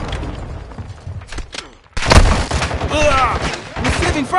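Gunfire in a Call of Duty: Modern Warfare II multiplayer match: sharp shots crackle at first, then a heavy burst of rapid, loud automatic fire and impacts rattles on close by, mixed with shouted voices.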